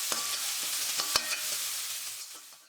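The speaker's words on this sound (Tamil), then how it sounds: "கூடவே கொஞ்சம் கருவேப்பிலையும் சேர்த்து நல்லா வதக்கிக்கிறேன்." Chopped onion and curry leaves sizzle and fry steadily in a pan, with a few scraping stirs of the spoon, before the sound fades out at the end.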